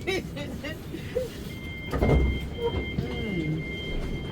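Southern passenger train running from London Bridge to Caterham via Tulse Hill, a steady low interior rumble of the moving carriage with a brief louder jolt midway, heard under a nearby person talking on the phone.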